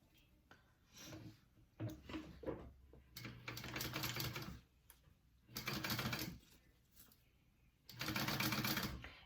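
A sewing machine bastes a zipper edge at 1/8 inch, right sides together, while sewing a bag. It runs in three fairly loud bursts of rapid stitching, separated by quieter pauses with soft handling noises.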